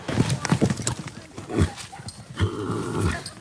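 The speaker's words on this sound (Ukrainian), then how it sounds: "наче підстрелений, кінь за командою падає" A trained horse at an equestrian theatre drops to the ground on command, with hoof thuds, clip-clop and snorting mixed with loud, busy background noise and some voices.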